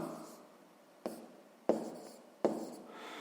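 Pen strokes scratch across paper while a math solution is written out, a close, steady scraping broken by three sharp taps and restarts as new marks begin.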